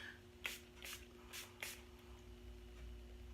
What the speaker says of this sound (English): So you just lightly spray this.